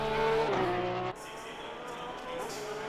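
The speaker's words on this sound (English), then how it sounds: "I don't know how Porsche get that straight six to sound like that." Porsche straight-six race car engine in a video game race at Bathurst, revving loudly and dropping sharply on a downshift, then holding a steady drone; faint tyre noise underneath.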